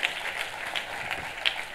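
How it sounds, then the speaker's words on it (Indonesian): Congregation applauding during a church sermon, a steady wash of many hands clapping at moderate level with a few sharper claps standing out, no talk over it. "Kita kasih tepuk tangannya yang meriah buat Tuhan."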